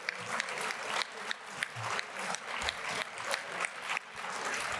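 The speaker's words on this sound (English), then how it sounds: "Let's give a round of applause to her for helping to organize this." A room full of people at a convention session clapping, a steady round of applause with a few louder individual claps standing out near the listener.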